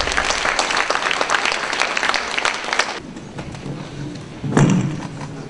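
An audience claps steadily to welcome a professor at a folk painting forum, a full, dense round that cuts off, leaving quieter room sound and a brief louder thump near the end.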